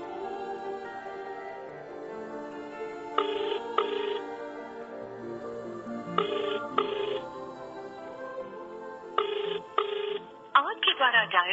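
A phone call rings out with a repeated electronic ringback tone in paired bursts at even intervals, then a different tone at the end, fairly clear over a quiet background.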